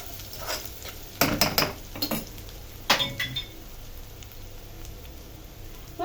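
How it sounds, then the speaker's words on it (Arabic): A spoon stirs grated garlic cloves frying in a pot for green beans, scraping and clinking against the metal in a few clustered bursts over a steady low sizzle. "هننزل عليهم بالفصين الثوم اللي قلنا عليهم، نديها تقليبه كده بسيطه"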